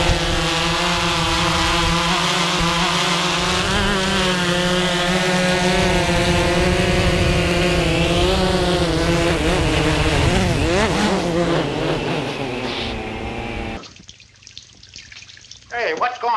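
A DJI Phantom 3 Professional drone buzzes in flight outdoors on a windy day, its steady high-pitched motor whine wavering as the rotors adjust, before cutting to a quieter, rougher section near the end.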